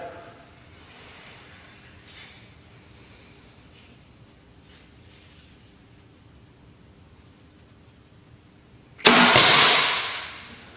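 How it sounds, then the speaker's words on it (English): A Hoyt Carbon Spyder Turbo compound bow is shot once outdoors. A long quiet stretch ends in a sudden broad whoosh and snap that fades over about a second. "And again, very, very quiet shot."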